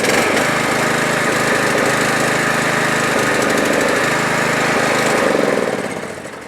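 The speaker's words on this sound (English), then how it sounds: "Engine runs good, but when you engage the PTO, right, it kind of hesitates a little" A Troy-Bilt Super Bronco riding lawn tractor with a 17.5 or 20 HP Intek engine runs steadily up close, a loud continuous chugging drone with knocking pulses that eases off and fades slightly near the end. No one talks.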